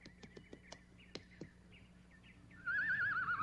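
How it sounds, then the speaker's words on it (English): A few sharp hoof-like clops sound at first, then a horse gives a long, loud, wavering whinny close by. "I think I hear the prince's horse approaching now."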